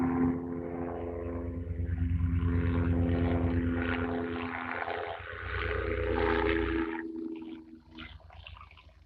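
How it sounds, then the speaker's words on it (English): Helicopter passing overhead outdoors in Napa Valley, a loud throbbing rotor and engine drone that swells, holds, then fades away toward the end, with no talk over it. "We got a chopper."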